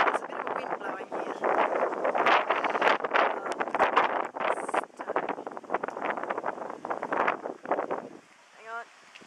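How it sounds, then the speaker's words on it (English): Wind gusts rush across the microphone outdoors by a walnut tree with cockatoos about, a continuous buffeting roar that swells and fades, with a bird call near the end. "There's a bit of a wind blowing here."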